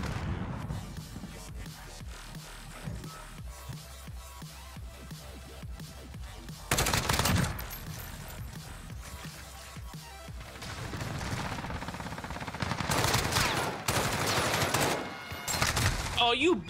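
Gunfire in the video game Modern Warfare during multiplayer, with dense rapid bursts and sustained automatic fire crackling loudly over a noisy battle background, later heavy volleys near the end.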